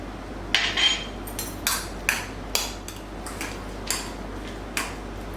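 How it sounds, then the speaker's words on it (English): Peeled banana being mashed with lemon juice, a fork or utensil knocking against a bowl in a steady series of about a dozen light, close taps. "Now the banana is peeled, we're going to add the lemon juice in order to mash it up."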